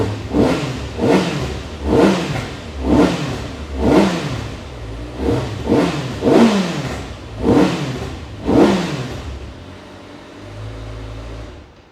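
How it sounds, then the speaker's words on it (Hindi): A superbike engine revs hard about eight times in a rhythmic series of throttle blips, then settles into a low, steady idle. "एक बार नई बाइक की आवाज़ भी आपको सुनाई देते हैं"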